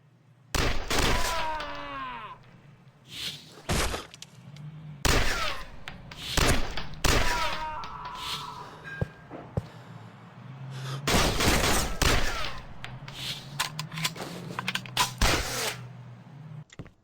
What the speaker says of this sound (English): Bullets are heard as it whizzes past you or as it hits the cover you are hiding in.